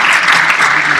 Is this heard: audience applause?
yes